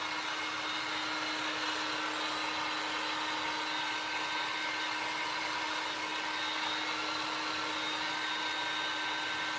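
A hair dryer runs steadily on a DIY circle Christmas tree craft, a constant close whooshing blower with an even motor hum and no pauses.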